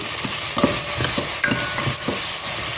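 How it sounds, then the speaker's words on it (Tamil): Chopped tomato sizzles in oil in a pan for a tongue-fish and radish curry. A spoon stirs it in steady, rhythmic scrapes over a constant close frying hiss. "ஒரே ஒரு தக்காளி பழம் கட் பண்ணி வச்சுருக்கேன் அதை போட்டுருவோம் தக்காளி பழம் நல்லா வெந்து வரட்டும்"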